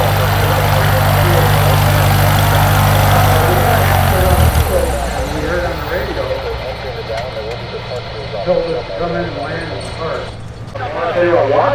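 An ultralight aircraft on takeoff at the EAA AirVenture Oshkosh ultralight runway: a close, loud buzzing engine drone that shifts in pitch and fades as the plane climbs away, with voices talking over it.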